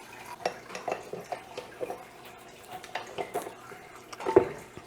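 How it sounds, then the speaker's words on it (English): Melted butter being stirred into a gluten-free cinnamon roll mixture in a bowl, with scattered light clinks and scrapes of a utensil against the bowl in an uneven rhythm, fairly quiet and close. "Melted butter goes in the mixture."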